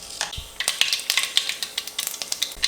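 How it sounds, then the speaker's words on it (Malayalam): Mustard seeds sizzling in hot coconut oil while tempering a Kerala-style kadala roast: a steady close crackle broken by scattered sharp pops, with no voices. "വെളിച്ചെണ്ണ ചൂടായതിന് ശേഷം നമുക്ക് അതിലേക്കൊരു 1/2 ടീസ്പൂൺ കടുക് ചേർക്കാം."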